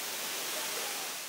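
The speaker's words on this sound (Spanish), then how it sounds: "vemos que está pues el agua bastante bien, no es muy abundante, pero está cayendo" A small waterfall with a modest flow, its water dropping into a pool at a scenic cascade near Santiago, gives off a steady, even broadband rush that stays uniform and fairly loud throughout, with no voices.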